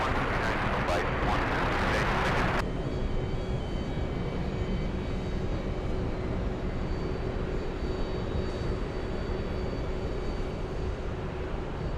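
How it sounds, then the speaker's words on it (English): A Boeing 767 bound for Los Angeles, its engines rumbling steadily at a distance, with a brief burst of louder noise at the start before a continuous airport drone. "That is the 767 flying to Los Angeles"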